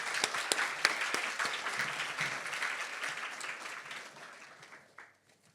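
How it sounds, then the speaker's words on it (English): Audience applause at an award presentation ceremony, dense clapping from a crowd in a hall that gradually thins and stops near the end, with no talk over it. "Let's give them a well-deserved round of applause."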